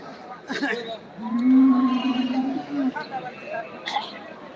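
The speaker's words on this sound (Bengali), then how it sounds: "দেখুন গরুগুলো দেখুন" At the Deohata cattle market, a cow gives one long, drawn-out low moo close by, surrounded by people talking and the babble of the crowd.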